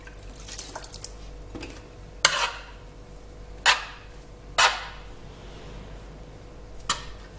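Water added by hand to semolina dough for rfisse, heard as a handful of separate wet splashes and drips, close and moderately loud, spaced a second or two apart over a quiet kitchen background.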